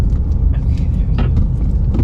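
A steady low engine rumble from a 2023 Ford Maverick Tremor pickup's four-cylinder, revving under acceleration, fills the clip, loud and close, with faint background noises over it, on mountain roads in the Rockies.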